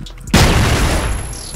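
A single sharp gunshot bursts out in a first-person shooter match, loud and close, then trails off into a long decaying echo.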